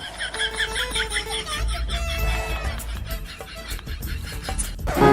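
A chicken clucks in quick repeated bursts, followed by a rooster-like crowing call, loud and close, with scattered noise around it.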